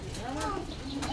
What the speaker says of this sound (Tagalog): Ako may kalapati na.